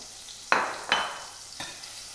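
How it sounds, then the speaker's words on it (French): Shallots dropped into fresh butter in a pan for eggs, giving three short bright sizzling bursts about a second apart, each fading quickly, close and moderately loud with no talking. "je vais mettre mes échalotes à suer tout doucement"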